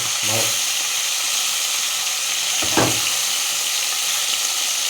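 Fish fries in village-style oil in a home kitchen, a loud, close, continuous sizzle with two brief bursts of scraping and spattering as the pieces are turned over, with no words spoken.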